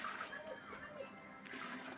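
Water pours and splashes steadily out of a bucket of soaking chickpeas, a continuous close sloshing flow with slight surges, faint and unbroken for the whole moment.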